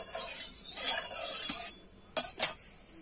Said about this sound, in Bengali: একটু আমি নেড়ে নেব।